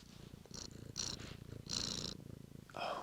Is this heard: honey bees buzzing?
no